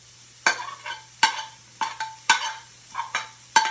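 Chicken pieces with spices and garlic are stirred in a hot pan, giving a series of about eight scraping, sizzling strokes at a steady rhythm over a faint low hum.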